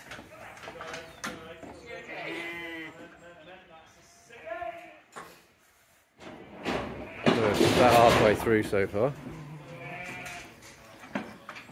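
Sheep bleat repeatedly, loud and close, with a flock calling over one another during sheep scanning while a person speaks briefly amid occasional thumps.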